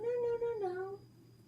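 A female cat, almost 7 years old, meows once, a drawn-out tonal call that slides downward in pitch and then fades, close by with no talking.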